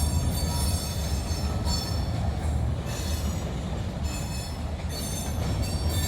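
A CSX freight train with tanker cars rolls along the track, a loud steady rumble of wheels and cars with squealing metal and faint rhythmic clacking, continuous throughout.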